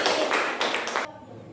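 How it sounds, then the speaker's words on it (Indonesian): Schoolchildren and their teacher applaud group 3 in a classroom, a dense burst of many hands clapping together for about a second before it stops abruptly and the room falls quiet. "kita beri tepuk tangan dulu untuk kelompok 3"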